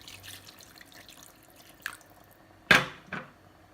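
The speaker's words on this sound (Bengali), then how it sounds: "মাছ দিয়া উপরে দিয়ে আরো আধা কাপ পানি দিলাইমু।" About half a cup of water is poured over fish and tomatoes in a pan for a Sylheti tomato fish curry, giving a few short splashes after quiet background, the loudest near the end.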